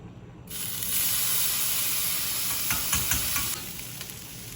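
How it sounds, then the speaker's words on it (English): Garlic hitting hot sesame oil in a pan bursts into a loud, steady close sizzle that holds throughout with a brief flurry of crackling. "Put in a tablespoon of sesame oil. A teaspoon of garlic."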